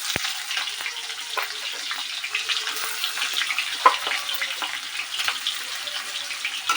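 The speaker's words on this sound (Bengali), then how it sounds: "তেলটা গরম হয়ে গেছে একটা বড় সাইজের পেঁয়াজ কুচি করে নিয়েছি এর মধ্যে দিয়ে দেবো" Chopped onion frying in hot oil in a wok, giving a steady, close sizzle with bright crackling spatters throughout and one sharper pop near the middle, with no voices.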